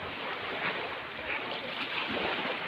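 Sea waves wash steadily against the seashore in a constant broadband roar, with gentle swells and some wind noise and no voices.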